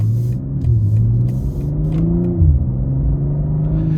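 A 2022 BMW M240i xDrive engine revs up and down in sport mode with a deep, throaty rumble, climbing and dropping in pitch several times, close and loud.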